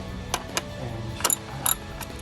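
A ratchet wrench works 10mm bolts loose on a 2012-2016 Jeep Wrangler JK, giving a few short bursts of metallic clicking over a low, steady background hum.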